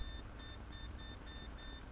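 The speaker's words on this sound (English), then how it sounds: "as you guys can hear the beep" A voltmeter on continuity test gives a series of short electronic beeps, about six evenly spaced pulses, faint over a low background hum while checking trigger contacts on an airsoft gun.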